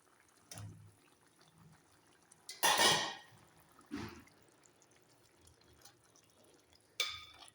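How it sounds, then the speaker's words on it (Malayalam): Sardine pieces drop into a boiling tamarind and chilli curry in a pot, making a few separate wet plops and splashes, one louder than the rest, with quiet bubbling in the pauses between. "കറിയൊക്കെ നല്ല തിളച്ചിട്ടുണ്ട്. നമുക്ക് മീൻ ഇതിനകത്തോട്ടിടാം."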